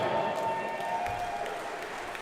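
At a kickboxing championship opening ceremony, a large crowd applauds steadily, the clapping soft and distant under a faint sustained tone, with scattered cheers.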